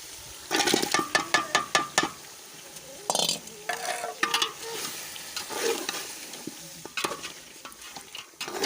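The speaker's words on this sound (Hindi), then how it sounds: "डालेंगे गोश्त" Mutton hits a hot pot with a burst of sizzling, followed by stirring clatter and continued frying noise.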